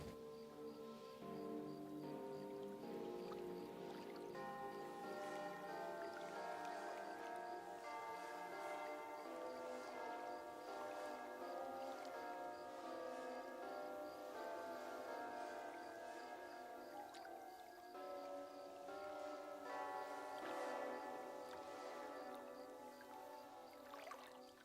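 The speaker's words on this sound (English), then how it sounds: "This one sounds like a church bell." A church bell rings softly and steadily, its long resonant tones overlapping and sustaining throughout, faint and distant.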